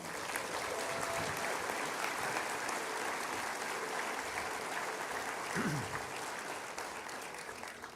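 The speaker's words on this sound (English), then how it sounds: "Another round of applause for our mayor." A steady, dense round of applause from a large audience at a city's State of the City address, honoring the mayor, sustained and even throughout with no break.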